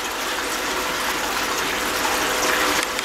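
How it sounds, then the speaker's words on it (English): Water from a hose gushing steadily onto a gold-washing tray, a loud, continuous rushing and splashing that runs uninterrupted with no talk over it. "it's nothing more than like a water hose running in there"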